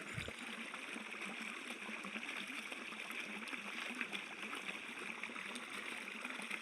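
Water drained from a pond runs steadily toward coconut trees in a farm field, a faint, continuous trickling and gurgling flow with no talk over it.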